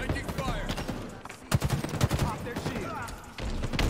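Halo multiplayer firefight with a grenade blast among bursts of rapid gunfire, loud and dense, while players talk over it.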